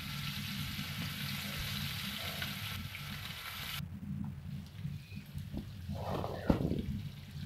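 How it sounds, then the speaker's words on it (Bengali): Puti fish frying in hot oil, a loud, steady broadband sizzle that drops abruptly partway through, then continues more softly with a few spatters and a sharp clink near the end. "তেল গরম হয়ে গেলে পুঁটি মাছগুলো একে একে ছেড়ে দেব।"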